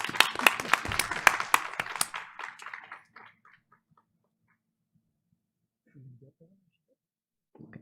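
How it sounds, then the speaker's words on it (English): A school board meeting audience claps for a student, with sharp, distinct handclaps that thin out and fade within about three seconds, followed by near silence and faint murmurs. "Let's give her a big round of applause."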